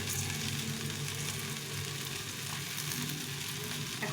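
Steady, close sizzling of lentils and rice frying in a hot pan, a continuous crackling hiss with no talking.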